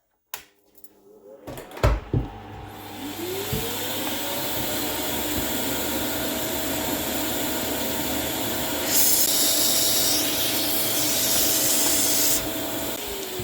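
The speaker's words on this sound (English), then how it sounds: "this is my vacuum cleaner right here, like my household vacuum cleaner" A steady, broadband household vacuum cleaner motor roar runs continuously after a few clicks and knocks at the start, with a rising whine as it spins up and a brief hissier stretch midway, used for sand core casting.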